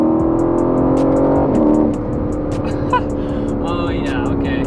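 A 2019 Aston Martin Vantage pulls hard under acceleration, its engine note rising steadily and loudly from inside the car, then settling into a strong drone, with voices talking over it.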